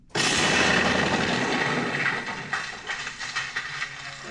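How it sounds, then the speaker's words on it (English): A staged explosion sound effect booms out at Cardiff Castle, a loud sudden blast that starts abruptly and then rumbles and crackles with a decaying roar for several seconds. "Right, you ready for the explosion"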